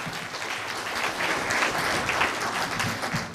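Steady audience applause fills a hall at an Advent programme, dense and sustained clapping throughout with no voices on top.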